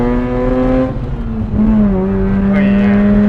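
A Nissan S15 drift car's engine revs hard and climbs in pitch, dips briefly, then pulls upward again, loud and close with a faint voice underneath.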